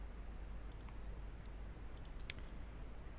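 A few sharp computer mouse clicks while applying a black-and-white photo filter in Python, sparse and close, over a steady low hum.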